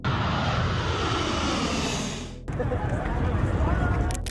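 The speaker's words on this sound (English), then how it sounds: "Desperate Afghans cling to US military planes as they take off from Kabul airport." Military transport aircraft roaring during takeoff at Kabul airport amid crowds, a loud continuous broadband engine rush that dips briefly then surges again, with crowd noise mixed in.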